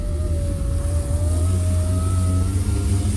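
A car's power aerial extending, a steady motor whine that slowly rises in pitch for several seconds, loud and close over a low rumbling background hum.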